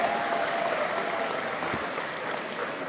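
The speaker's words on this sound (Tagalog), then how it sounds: "these two warriors deserve a round of applause from the Spokane" Applause from a Spokane crowd for two boxers after a professional fight, a steady dense wash of clapping, loud and continuous throughout.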